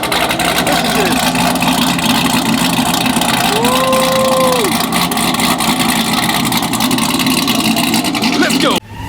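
A 900 HP cammed Chevrolet Camaro ZL1 engine runs loud and close, with a steady lumpy rumble and a brief rev rising and falling in the middle before cutting off at the end.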